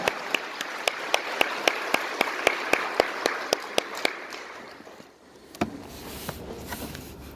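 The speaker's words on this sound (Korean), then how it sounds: "살아계신 하나님께 감사와 영광의 박수 올려드리겠습니다." Church congregation clapping in unison at a Sunday worship service, a run of about fifteen sharp, evenly spaced claps that fades into quieter scattered claps and room noise.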